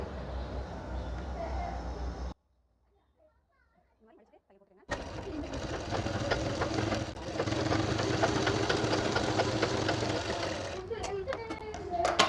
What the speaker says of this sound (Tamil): மடிச்சுட்டு இப்போ நம்ம வந்து இதை இதுலேயும் ஒரு தையல் போட்டுடலாம்